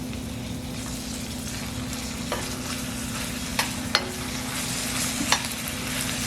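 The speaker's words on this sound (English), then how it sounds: "So you just want to sweat these peppers and onions just a little bit." Peppers and onions with chopped garlic sizzle steadily in a pan, a continuous close frying hiss with a few sharp stirring clicks and taps throughout.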